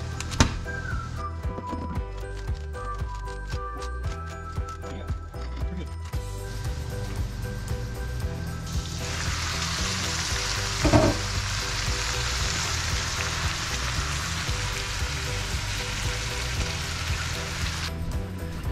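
Food sizzles and crackles steadily in a pan during preparation of a large home-cooked meal with rice and potatoes, growing into a dense, loud hiss in the second half, with a brief louder burst near the middle and no talk.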